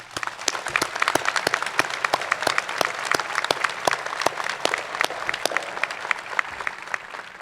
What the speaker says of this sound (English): join me in applauding this remarkable group of Methodist University graduates